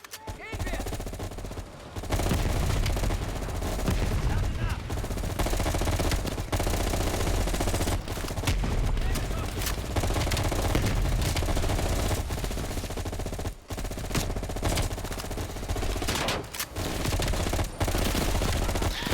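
Fully automatic M16 rifle fire in the video game Call of Duty: Black Ops Cold War, with rapid, loud, sustained bursts nearly throughout and only brief pauses, plus a voice talking over the gunfire.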